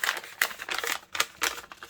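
Paper snipped with scissors while trimming a piece for a circle belly band pocket: a few quick, crisp, close cuts in rapid succession, with no voice.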